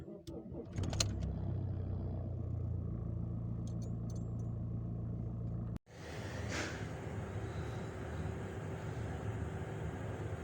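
A car with a mismatched immobilizer that fails to recognise its key still starts, its engine idling with a steady low rumble, briefly cut off midway and then running on with a brighter, noisier tone.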